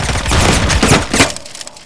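A super shotgun, a three-shell shotgun sidearm in the Phantom Forces shooter game, fires in a few close, loud blasts packed into a short burst that fades out quickly.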